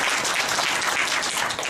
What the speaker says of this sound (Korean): 괜찮으면 그냥 박수 한번 주십시오.